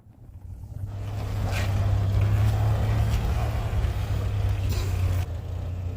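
A 1986 Jeep Cherokee XJ with a 2.5 liter four-cylinder engine drives along, a steady low engine hum rising from quiet and holding loud and close, with wind rush over it and no talk.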